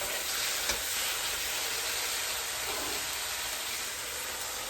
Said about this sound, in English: we're going to take and put our shrimp back in with this broccoli